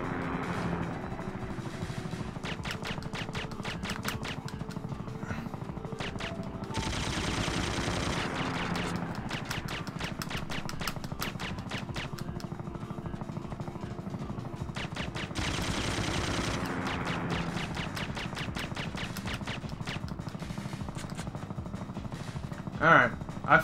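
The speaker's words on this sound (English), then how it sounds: "I'm about to use the fucking pistol on him" Pistol and automatic gunfire in the video game Syphon Filter, with a helicopter fight in progress. Dense, steady bursts of shots run throughout over a constant rumbling engine-like drone, with louder stretches of rapid fire.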